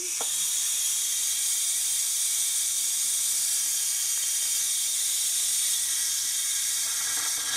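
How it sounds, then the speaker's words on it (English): An Instant Pot pressure cooker vents steam in a quick release, a loud continuous hiss that holds steady the whole time with no talking. "Okay, we're going to go ahead and quick release our steam."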